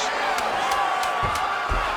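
Roaring arena crowd in a UFC video game bout between Valentina Shevchenko and Ronda Rousey, a steady loud wash of cheering with whoops, thuds and commentary over it.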